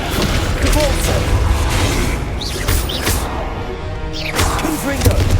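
Heavy booms and thuds of the Descendo spell slamming in Hogwarts Legacy combat, with magical whooshes and chimes layered over rumbling impacts, while a voice shouts spell names throughout.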